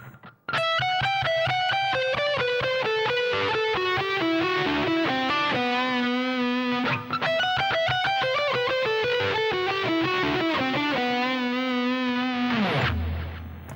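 Distorted electric guitar plays a fast, continuous lead phrase from a song's solo, loud and up close, with rapid picked notes running steadily before stopping abruptly near the end; no talk.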